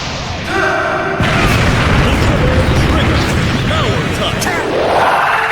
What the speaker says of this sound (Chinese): 两大强力形态开始猛锤加坦杰厄，每一下都带着火花的爆炸